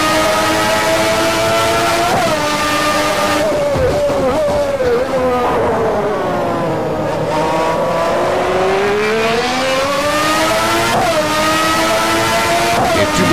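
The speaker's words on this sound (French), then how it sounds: "Et plus métallique le bruit, moins rauque que celui de la Ferrari." A 1992 Formula 1 mod car in the racing game Stock Car Extreme screams loudly and continuously, its engine note climbing and dropping through several sharp gear changes, with no talking over it.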